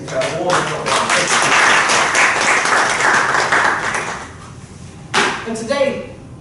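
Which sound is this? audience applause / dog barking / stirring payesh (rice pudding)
audience applause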